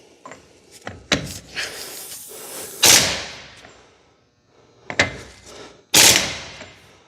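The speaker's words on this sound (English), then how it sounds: "we're going to use the torquing Gatling gun" Torque gun tightening wheel hub bolts on a 2000 Dodge Ram 2500 Cummins during front wheel bearing work, sharp bursts of impact rattling separated by pauses and clinks, loud and close, no talk.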